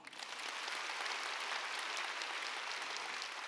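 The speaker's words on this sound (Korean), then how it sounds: "박수 쳐줘요" A church congregation at a Wednesday worship service breaks into sustained applause, a dense, even roar of many hands that holds steady and fairly loud from start to finish.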